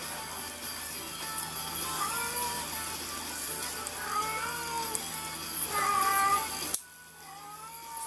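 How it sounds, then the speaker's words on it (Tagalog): A cat meows in repeated drawn-out cries at moderate loudness in an indoor room, with a steady background hum. "kumakanta na naman yung pusa"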